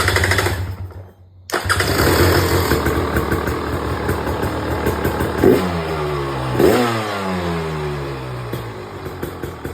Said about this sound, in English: If you want, you can go ahead and do a quick little startup.